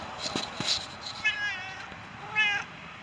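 An orange cat meows twice at close range, drawn-out wavering cries, with faint background noise in between.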